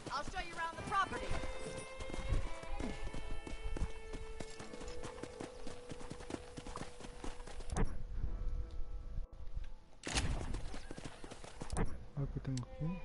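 Rapid, rhythmic hoofbeats of a galloping horse in Red Dead Redemption drum continuously, close and clear over a sustained musical drone, with a brief neigh near the start.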